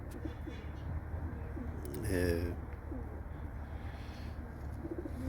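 Pigeons kept by a Turkish fancier, some of them young birds just starting to fly, coo softly and low near the microphone, with a short louder burst midway, while someone talks over them.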